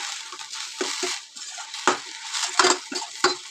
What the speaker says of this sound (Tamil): அப்பப்போ லைட்டாக கிளறி விடணும்.